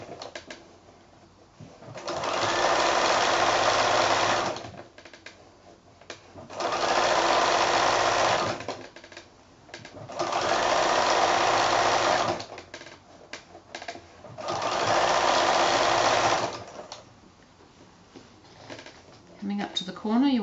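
A sewing machine stitches binding onto a quilted placemat in four steady sustained runs of a few seconds each, separated by pauses, close and loud with a speaking voice in the quiet gaps.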